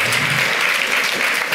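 Audience applause at a Hall of Fame induction ceremony for Charles Hull, a dense, even wash of many clapping hands filling the room, loud and sustained throughout.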